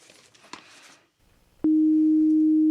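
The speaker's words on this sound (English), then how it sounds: "It's a sine wave. It's not rich." A pure, steady sine tone from an FM synthesizer operator with no modulation starts abruptly midway and holds loud and unbroken to the end, after a stretch of quiet room noise and a brief click.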